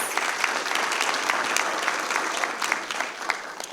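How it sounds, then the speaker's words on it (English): Audience applause fills a school district board of trustees meeting, a dense, steady wash of clapping from many hands that holds at an even level throughout, with no talk over it. "Let's give them another round of applause."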